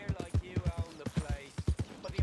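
A small American paint horse in Red Dead Redemption 2 walks with a steady, regular clip-clop of hooves, close and distinct, while someone talks over it.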